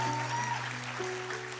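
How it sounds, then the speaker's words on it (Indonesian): A studio audience at an Indonesian televised preaching competition applauds in a brief, even burst, with steady sustained musical tones sounding underneath the clapping. "tepuk tangannya untuk Adon"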